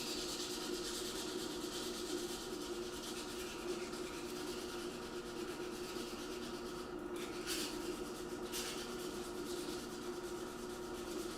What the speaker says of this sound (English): this whole hand sanding thing